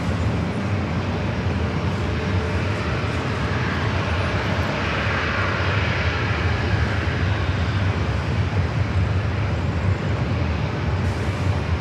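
An airplane takes off at San Diego airport, its engine roar a steady, broad, continuous rush heard at some distance, without talk.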